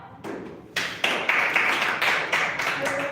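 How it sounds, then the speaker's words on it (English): Audience at a Toastmasters club meeting breaking into applause, a few claps at first then swelling into steady group clapping close by. "So clapping and appreciation is the Only surprise"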